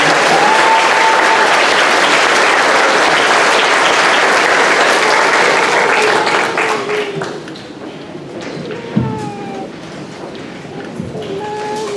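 Sustained audience applause at a 5th grade elementary school graduation, dense and loud at first, then thinning into scattered claps with a few distant voices and cheers as it dies away.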